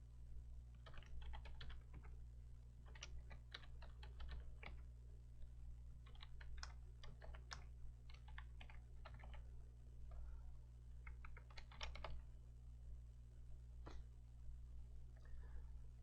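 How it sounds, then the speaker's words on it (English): Someone types on a computer keyboard, entering test patient details into UroScan software, with quiet irregular bursts of key clicks and pauses over a steady background hum. "So I'll type in a test patient here."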